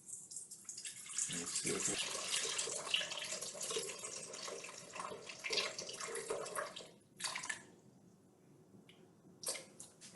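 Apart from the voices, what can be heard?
water being poured into a bowl on a scale for bagel dough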